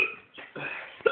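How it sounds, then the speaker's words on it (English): A drunk person hiccups once, a short sharp catch of breath near the end after a stretch of quiet breath-holding and soft background murmur. "Who has the hiccups?"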